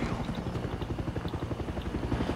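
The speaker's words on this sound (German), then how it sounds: "Kommt ein Heli auch noch," Steady rotor thumping of a helicopter hovering nearby in Far Cry 6, a rapid rhythmic chop with engine drone, continuous and fairly loud throughout.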